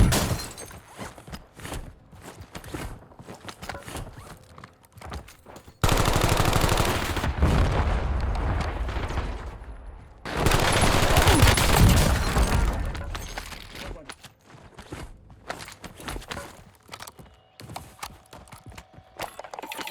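Gunfire in the video game Call of Duty Warzone comes in two loud, sustained bursts separated by quieter stretches of scattered clicks and movement sounds, close and without talk.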